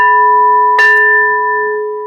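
Bell or chime rung once with a bright strike, leaving a pure, ringing tone that sustains and slowly fades over about two seconds, loud and close, with no voices.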